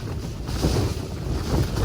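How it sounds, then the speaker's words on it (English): Steady roaring wind gusts buffeting a tent in the mountains close to the microphone, rising and falling in strength without pause; no voices. "The winds have shifted to the south,"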